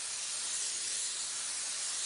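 Airbrush spraying heavier coats of paint while laying flames on a Hummer: a steady, continuous close hiss of pressurized air and paint, unbroken and even throughout.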